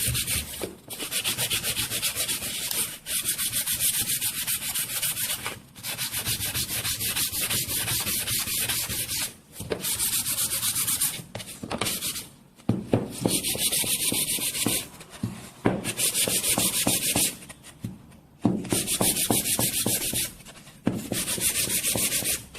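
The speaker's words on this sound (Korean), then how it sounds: "원목이기 때문에 사포질을 하면 자연스럽게 결이 나타나서" Sandpaper rubs back and forth over solid wood in close, steady strokes, a dry raspy scratching that repeats in bursts with short pauses between passes.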